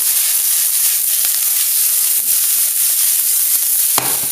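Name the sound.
chilli pepper sizzling in a frying pan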